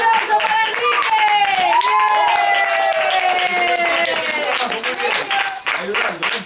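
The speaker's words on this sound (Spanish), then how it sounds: "¡Un aplauso para Enrique!" Children in a 5th-grade class burst into lively, sustained clapping and cheering as a group, loud and close, with excited young voices calling out through the applause.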